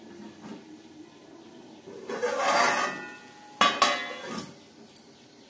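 A lid set down over a pan of Katla fish curry with ridge gourd and potato on a low gas flame gives a couple of sharp metallic clinks and a brief rattle, close and moderately loud.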